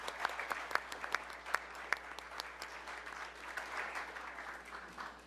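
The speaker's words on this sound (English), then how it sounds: "Give her a round of applause as she comes." A city commission meeting audience gives steady, faint applause that sounds distant in the room, with a few sharper individual claps standing out early on.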